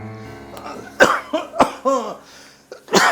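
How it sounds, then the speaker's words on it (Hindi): A man coughs several times in a row, sharp harsh bursts with throaty catches between them, close and fairly loud, with a final cough after a short pause. "थोड़ी खांसी आ रही।"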